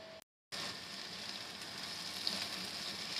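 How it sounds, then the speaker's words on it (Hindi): Finely chopped onions fry in about half a cup of cooking oil in a pan, a steady close hiss of sizzling that follows a brief cut to silence at the start. "प्याज हमारे फ्राई हो रहे हैं।"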